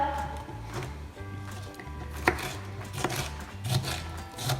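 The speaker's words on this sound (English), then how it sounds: "So we're just slicing up the pepper." A knife slices through a pepper on a board while preparing a slow cooker lamb rogan josh, giving a few scattered soft cuts and taps under background music and a voice.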